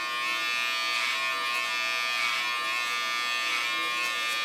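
Electric hair clippers buzz steadily while cutting a woman's hair during a winter haircut, a close, continuous hum with slight swells as the blades move through the hair, no talking.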